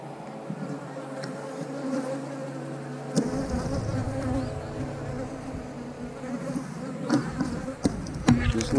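Honeybees buzzing in an open 8-frame hive, a dense, steady drone close by, with a few knocks and handling clatters of frames toward the end.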